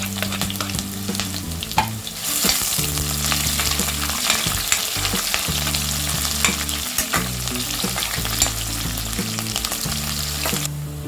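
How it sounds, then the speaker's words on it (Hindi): Chopped onion with cinnamon sticks, cumin and slit green chilies frying in a pressure cooker, a loud steady sizzle with repeated stirring scrapes and a low droning hum throughout. "अनियंस फ्राई हो गया।"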